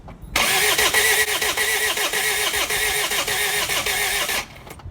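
A diesel Land Rover Freelander that won't start cranks over for about four seconds, the starter churning in a steady, loud, pulsing rhythm before cutting off.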